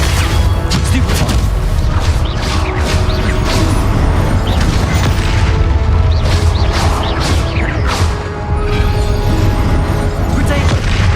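Dense, continuous barrage of magical spell impacts from the video game Hogwarts Legacy, loud booms, crashes and whooshing blasts repeating rapidly over a constant rumbling game mix, with a voice calling out underneath.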